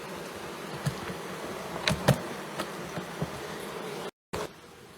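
Honey bees from a hive removed from a Congleton chimney, buzzing as a steady close hum with a few brief louder passes, cut by a short gap near the end.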